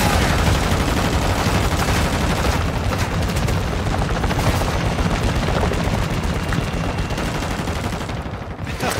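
Dense, sustained gunfire from a Modern Warfare III war match, loud and continuous for the whole stretch: a relentless barrage of overlapping automatic bursts and shots with no voices.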